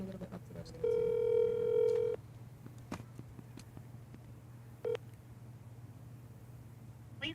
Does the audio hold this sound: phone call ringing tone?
yes